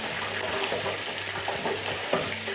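Chicken pieces fry in hot oil for a Kentucky-style fried chicken recipe, giving a steady, close crackling sizzle with dense popping that holds evenly throughout.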